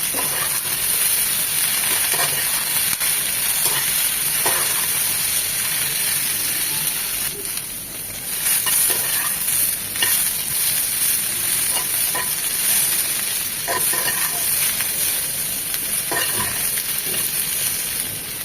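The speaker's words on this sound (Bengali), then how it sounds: "এই তেলেই জাস্ট দুই থেকে তিন মিনিট সবজিগুলো একটু ভেজে নেবো" Cauliflower, beans and potato fry in soybean oil in a pan, a steady loud sizzle with repeated stirring scrapes and clinks throughout, no voices.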